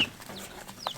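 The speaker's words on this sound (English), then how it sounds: "we are out in the shop now where I got the chick brooder" Young chicks in a brooder out in a shop give a couple of quick, faint, high peeps over a quiet room hiss.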